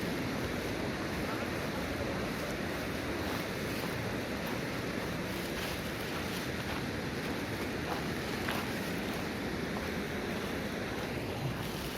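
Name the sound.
glacial meltwater stream flowing under a glacier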